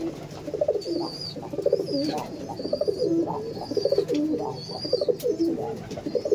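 Pigeons coo steadily in a loft where a white pair is up for sale, soft repeated coos layered over faint chirps, with sparse high bird calls and light background noise throughout.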